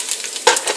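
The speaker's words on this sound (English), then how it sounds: "so I'm going to put all this in. And you can see it's sizzling in there." Whole spices hit hot oil in a pot for mutton goat curry, giving a close, loud crackling sizzle with a sharper burst of spatter partway through.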